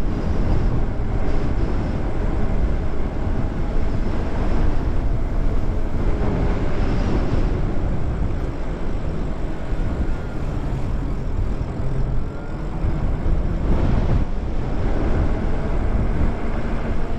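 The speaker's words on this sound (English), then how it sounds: "That's a really strong wind." Strong wind buffeting a microphone outdoors, a loud continuous low rumble that swells and eases over time, with no speech.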